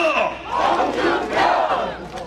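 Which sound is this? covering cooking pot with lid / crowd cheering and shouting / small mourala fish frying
crowd cheering and shouting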